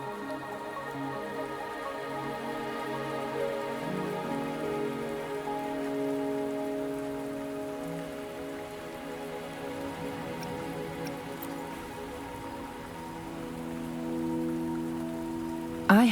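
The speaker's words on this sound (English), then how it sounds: "Are you trapped here by the rain?" Steady rain pattering on a surface in the video game Wuthering Waves, with soft drips throughout and a gentle musical tone underneath, continuous and fairly even.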